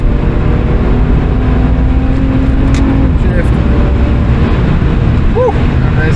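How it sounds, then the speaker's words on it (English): A BMW with an N54 engine and DCT gearbox pulling hard at full throttle in third, its loud steady engine roar heard from inside the cabin under ongoing road noise. "So right now into 3rd, into full throttle,"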